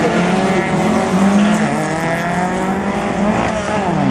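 Drag racing cars, a Volvo and a BMW, roar at high revs down the strip at Tarlton Raceway, a loud, steady engine drone with a rising tone throughout.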